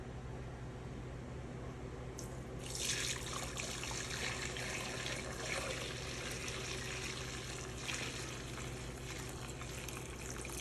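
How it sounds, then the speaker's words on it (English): Homemade chicken stock pours through a strainer into a pot, a steady close splashing trickle that starts after a couple of seconds and runs continuously over a low background hum. "let me see if I could try and drain it through the strainer"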